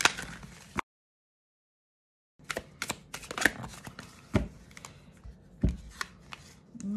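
Oracle cards shuffled by hand for a reading, a quick riffling run, a silent pause, then a longer stretch of crisp flicks and soft slaps of card against card, close up.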